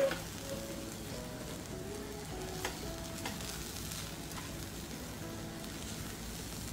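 A spoon scrapes and stirs through khichadi of dal, rice, peanuts and potatoes in a pan as coriander is mixed in, with a soft steady sizzle and occasional clinks of utensil on metal.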